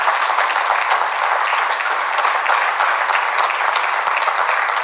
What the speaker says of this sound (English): let's give all of you and our esteemed guests a huge round of applause